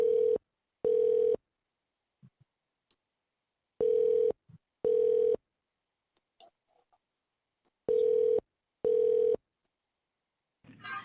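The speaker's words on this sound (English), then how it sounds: "Please wait while I transfer your call." Telephone line tones during a call transfer to a justice court: three pairs of short, loud, steady beeps spaced evenly in silence, with faint clicks between them.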